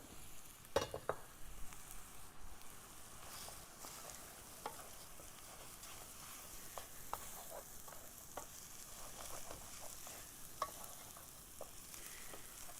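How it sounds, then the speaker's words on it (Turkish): Soft, steady frying sizzle of onion and orzo toasting in a pot, with occasional light scrapes and clinks of stirring, fairly quiet and continuous. "Güzelce hem soğanın hem şehriyenin kavrulmasını bekliyorum."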